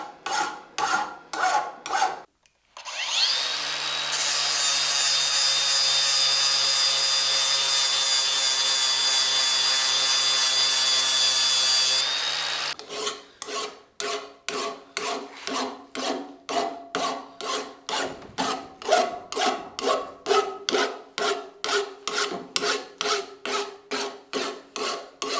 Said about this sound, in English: then I use files to clean everything up